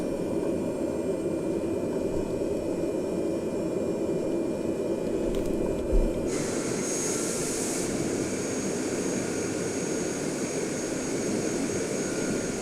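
A small bush plane's engine drones steadily through its takeoff, with a continuous, fairly loud roar and hiss and a brief change in tone midway. No one speaks.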